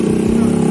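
Idling motorcycle, a custom Mio-style scooter build fitted with its original stock exhaust, giving a steady low throbbing engine note close by with a slight rise partway through, steady and unbroken across the short moment.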